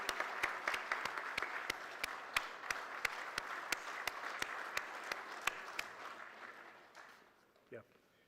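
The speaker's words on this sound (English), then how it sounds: "A big round of applause, please." A crowd at an HRD conclave applauds steadily, a dense wash of clapping with a few sharp claps standing out, fading away near the end.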